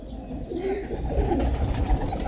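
A prized show pigeon gives a close, low, throaty coo that rolls on steadily for a couple of seconds against a slightly noisy background.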